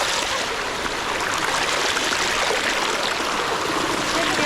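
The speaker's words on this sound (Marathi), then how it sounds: "पाऊस तर बंद झालाय, पण या जागेवर पाण्याचा फ्लो हा वाढलाय." A river swollen after rain rushes near the Siddheshwar waterfall close to Alibag, a loud, unbroken roar of flowing water that fills the whole stretch.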